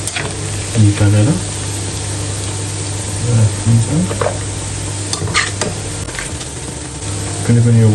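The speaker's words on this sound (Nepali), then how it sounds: "हाम्रो त्यो पोर्क चाहिँ मजाले फ्राई भएको छ" Pork pieces fry for a spicy meat pickle, with a loud, constant sizzle and crackle, occasional stirring scrapes in the pan, and a voice briefly talking over the cooking.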